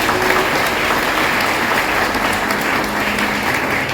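Loud, dense applause from a large audience at a graduation diploma ceremony, sustained and even throughout as graduates are presented.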